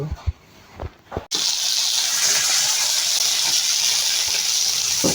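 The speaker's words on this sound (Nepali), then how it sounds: "अब भुट्न आँट्दैछ सुरुमा तेल हाल्यो" Oil sizzles in a pan just before potatoes go in to fry, a sudden loud, steady hiss that begins abruptly after a moment of quieter handling noises and holds evenly to the end.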